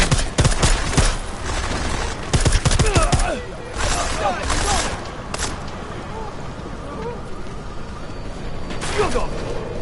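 Loud, close gunshots burst in irregular volleys among rapid cracks and clatter, with excited voices shouting over the firing.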